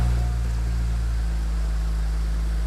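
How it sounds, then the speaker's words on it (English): A BMW E92 335i engine idles steadily, a close low rumble with a constant hum and no variation in pitch, heard on its own with no talking. "But she's idling nicely."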